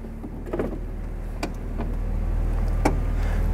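A 2011 BMW Z4's power convertible hardtop closes with a steady electric motor hum, broken by a few soft clicks and latching knocks, close and fairly quiet.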